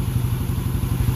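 A motorcycle engine fitted with a TS Racing 28mm exhaust, built to spec 57 after an overhaul, runs steadily with a loud, close, throbbing low burble and no talking.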